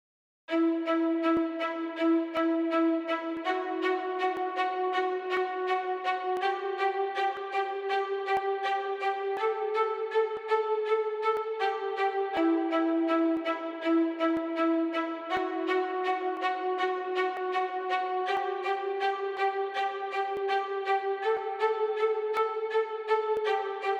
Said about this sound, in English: Session 2 strings, the orchestral sound.